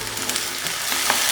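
Medium potato cut into small cubes dropped into hot oil for sabudana khichdi, a loud dense hiss of frying throughout this short moment, with no talking.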